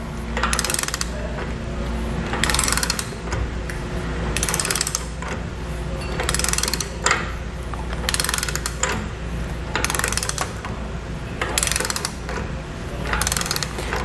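A ratchet fitted with a 1.5-inch socket clicks rapidly in repeated bursts while torquing a trailer hitch ball on a hidden hitch receiver, with short pauses between strokes; close and fairly loud, with no talking.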